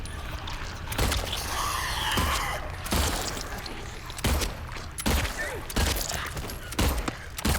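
Gunshots in the Silent Hill 2 Remake, a series of loud, sharp shots spaced about a second apart over a continuous game soundscape.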